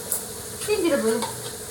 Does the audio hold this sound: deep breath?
no